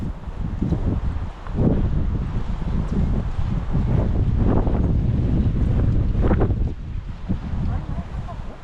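Strong wind gusts across an outdoor garden plot in the UK, buffeting the microphone in rumbling surges that rise and fall, with people talking under the roar.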